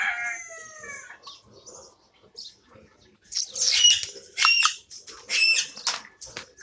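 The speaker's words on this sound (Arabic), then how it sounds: "وهذا دجاج البرهامة" Brahma chickens at a zoo crowing and squawking in loud, repeated harsh calls, with a few softer clucks and bird chirps before them.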